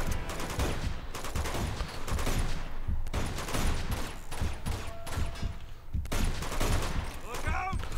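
Rapid bursts of gunfire in the action video game Uncharted 2: Among Thieves during a firefight, repeated shots spread throughout with a voice shouting over them.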